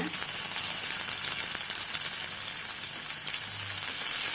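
Sliced onions frying in oil in a pan for kuruma, a continuous even sizzle and hiss held at moderate level throughout, close by with no voices.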